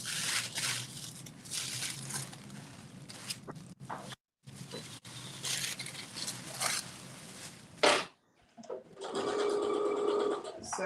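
A home sewing machine runs in steady bursts while stitching the shoulder seams of a Simplicity 5628 caftan with a ruffle, its rapid mechanical whir broken by brief pauses and a short stop near the end before resuming.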